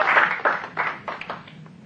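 Applause from a small public speaking class audience comes in scattered bursts, fuller at first and then thinning into a few separate claps as it dies away.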